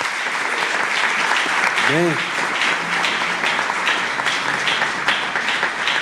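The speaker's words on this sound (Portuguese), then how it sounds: "uma salva de palmas aqui" Church congregation at a Baptist evening service with baptisms and communion applauding together, a sustained wash of clapping throughout while a voice briefly speaks over it.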